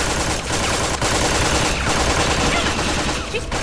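Rapid, sustained gunshots crackle in Tales from the Borderlands, a dense loud barrage filling the whole moment with little pause.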